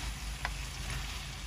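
Goat meat fries in a pan with a low, steady sizzle, faint and close, and a single light tick of a utensil breaks in briefly.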